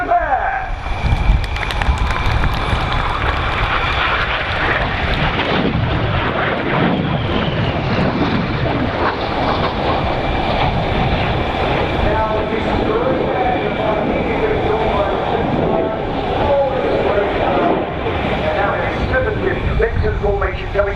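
Red Arrows synchro pair jets passing at an air show, a loud continuous roar of jet engines building and rolling on for the full length, with a commentator's voice over the public address.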